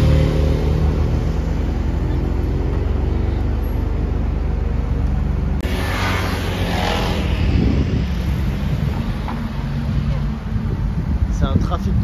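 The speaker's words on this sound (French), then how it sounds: "Trafic de fou Monaco." Heavy car traffic on a Monaco street, a steady loud roar of passing engines with a surge of a car accelerating near the middle and further vehicle noise toward the end, people talking underneath.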